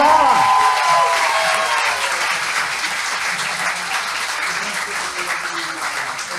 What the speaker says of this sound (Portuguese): Aplauda muito ela!